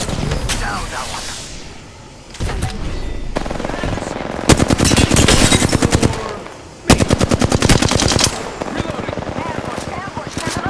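Automatic weapon fire in the video game Apex Legends rattles out in loud, rapid bursts, several long strings of shots broken by brief pauses, with gameplay noise between them.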